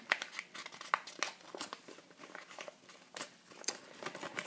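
Origami paper folded into a gift box, heard as soft, close crinkles and papery creasing taps in a quiet room, with no talking.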